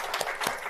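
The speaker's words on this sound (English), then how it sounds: "a quick round of applause for our awesome panel" Audience applause for a business panel of female founders: a steady, dense wash of many hands clapping at close range, continuous and fairly loud through the whole short burst.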